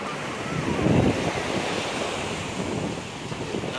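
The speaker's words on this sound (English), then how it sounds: "We love the beach." Surf rolling onto a long sandy beach with clear water, a steady broadband wash that swells around the first second, with wind buffeting the microphone throughout.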